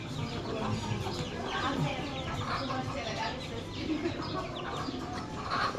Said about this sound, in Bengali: ব্রাহ্মা মুরগির বাচ্চা, এই যে ব্রাহ্মা মুরগির বাচ্চা বিভিন্ন কালারের